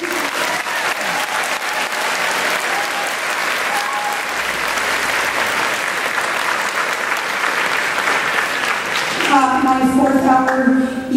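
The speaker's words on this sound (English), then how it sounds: "Let's give her a round of applause." A high school spring choir concert audience gives sustained applause, a dense, even roar of many hands filling the hall, fading near the end as a voice and a tone emerge.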